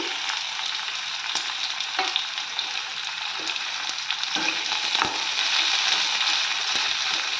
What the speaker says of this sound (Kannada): ಆನಿಯನ್ನು ಫ್ರೈ ಆದಮೇಲೆ ಮೆಣಸಿನ್ಕಾಯಿ, ಹುರ್ಗಡಲೆ, ಜೀರಿಗೆ, ಮೆಣಸು ಇದನ್ನೆಲ್ಲ ಫ್ರೈ ಮಾಡ್ಕೊಳ್ತಾ ಇದ್ದೀನಿ.